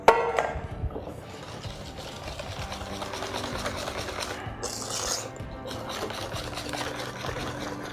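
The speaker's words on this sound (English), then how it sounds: "you're just stirring it to combine" Chocolate tart mixture being stirred to combine, a continuous soft scraping and rubbing of a utensil against the bowl, moderately close, steady throughout with a brief brighter scrape midway.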